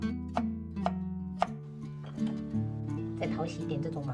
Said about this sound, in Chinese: 准备小节胡萝卜，我们切稍微细一点的滚刀块